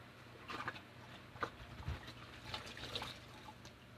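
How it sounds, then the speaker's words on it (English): Hands washed under a running tap after handling raw burger meat, a faint, steady splashing patter with small irregular bursts as the hands move through the stream. No one speaks. "So let me wash my hands off from handling that raw meat."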